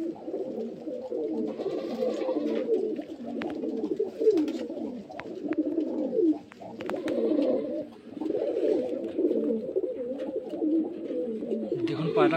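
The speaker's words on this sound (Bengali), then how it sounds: "দেখুন পায়রা খুব ভালো ভালো কোয়ালিটির পায়রা আছে।" Many pigeons coo continuously in a seller's loft in Beldanga, Murshidabad, a dense, throaty, overlapping rolling chorus heard close and loud, with faint chirps and a few clicks mixed in.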